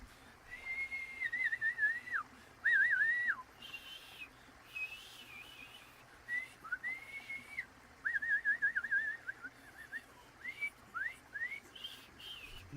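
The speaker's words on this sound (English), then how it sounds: "A bunch of whistles and shit." Repeated melodic whistles in short rising and falling phrases, bright and fairly close, recurring in bursts over a steady low background hum, with no voices.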